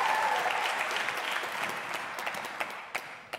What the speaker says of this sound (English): I'm so glad we paid extra for that clapping track